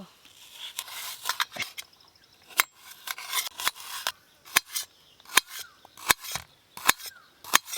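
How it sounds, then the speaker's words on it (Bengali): Sharp, crisp knife chops on a board cutting food into small pieces while cooking over a clay stove, an irregular series of loud close taps with short pauses and no talk. "ছোট ছোট করে কেটে নেব।"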